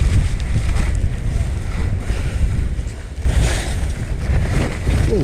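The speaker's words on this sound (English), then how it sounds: "Ooh, look at the wind." Strong wind roaring across a big Utah ski mountain during an approaching storm front, a steady loud broadband rush that dips briefly near the middle and then surges again.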